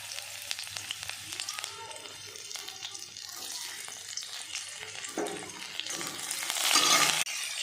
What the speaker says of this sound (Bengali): তেল দিয়ে দিয়েছি কড়াইতে কচু রান্না করার জন্য। একটু রসুন দিচ্ছি এখন।